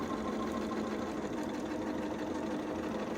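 A sewing machine stitches a seam in quilt fabric for a queen-size pinwheel quilt, running in one continuous fast, close whirr with a steady mechanical chatter and no pauses.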